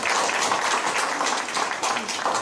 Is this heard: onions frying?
no